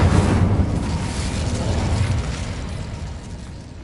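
Incendio fire spell cast in the video game Hogwarts Legacy, a loud whooshing roar of flame with a deep rumbling burst that stays dense throughout and slowly tapers.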